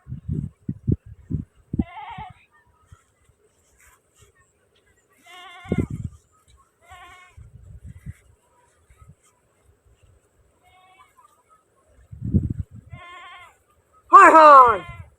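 Goat bleating in short harmonic calls several times, mixed with people talking nearby and ending in a loud, wavering bleat or cry close to the microphone.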